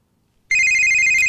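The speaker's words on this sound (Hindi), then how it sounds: "Phone is ringing, I am coming." Phone ringtone bursting in loud and sudden after a brief silence, a bright steady electronic tone continuing without pause; no talking.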